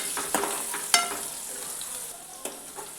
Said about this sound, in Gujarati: ડુંગળીને પણ આપણે થોડીવાર માટે સાતળી લેવાની છે.